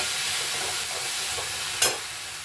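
Raw peanuts and cumin seeds sautéing in a hot pan give a steady, close sizzle, with one brief sharp scrape of stirring near the end.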